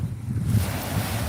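Water waves wash against a shore in a continuous, fairly loud low surge mixed with wind rush, heard alone through a brief stretch.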